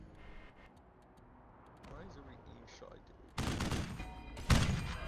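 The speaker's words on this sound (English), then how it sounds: "Double shot." Gunfire in the video game Wasteland 3, a couple of loud broadband shots bursting out late in the moment, the second one sharper, after a stretch of quieter ambience with a voice speaking under it.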